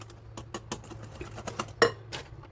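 A spoon mixes chocolate cake batter in a bowl, giving a quick series of light metallic clinks and scrapes against the bowl at close range.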